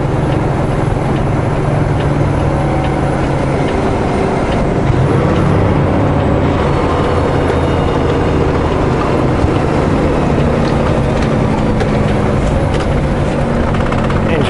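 Air brakes on a truck hiss as they release while it sits at a snowy, icy mountain brake check, the rush of air steady and broad over a low idling engine rumble, with a brief voice in the background.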